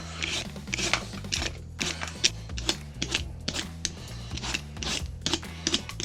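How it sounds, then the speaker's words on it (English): A handheld peeler scrapes rind off produce in quick repeated rasping strokes, close and fairly quiet, with short pauses between passes and no talk. "I'm going to take this peeler and I'm just going to basically peel all the rind off of it"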